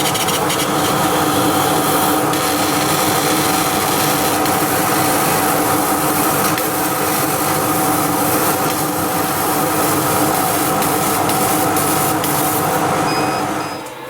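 A laser cutter runs a cutting test on 6mm stock, with a steady, loud broadband whir and rushing of fans and motion that holds evenly for the whole stretch before easing off at the end.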